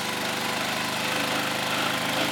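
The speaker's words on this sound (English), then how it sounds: "It's a big 15 horsepower Briggs & Stratton engine, and it's turning a 24-inch circular blade that cuts down 10 inches" A 15 horsepower Briggs & Stratton engine drives a 24-inch circular saw blade cutting ten inches down into lake ice during an ice harvest, a loud, steady, continuous engine drone with a raspy high hiss and no pauses.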